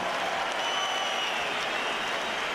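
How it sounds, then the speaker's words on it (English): Steady, dense applause from a large boxing arena crowd for two undefeated champions entering the ring, a continuous wash of clapping and crowd noise with no voice over it. "a round of applause for two undefeated champions coming into the ring."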